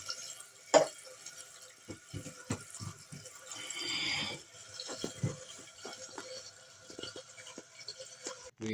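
Water rushing and draining as a toilet is flushed during a home repair, a loud gurgling surge mid-clip amid trickling and dripping water with clunks from the tank.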